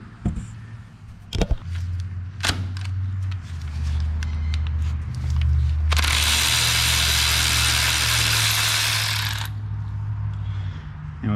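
A ratchet loosens a 13 mm starter grounding bolt on a Ford 5.4 engine, with a few sharp clicks and knocks near the start. A loud sustained whirring burst of about four seconds follows over a low steady hum, close up.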